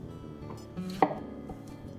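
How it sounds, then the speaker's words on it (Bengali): Pumpkin cut into chunks about four centimetres, a little larger than potato pieces, for a spicy dried-fish curry: a single firm knife chop on a board stands out midway, with faint kitchen clatter around it. "কুমড়ো কাটবে আলুর থেকে আরেকটু বড় করে চার সেন্টিমিটার মতো"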